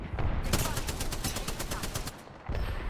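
Rapid automatic gunfire in a shooter video game, a dense burst of evenly spaced loud shots rattling for about two seconds over a noisy background of game combat.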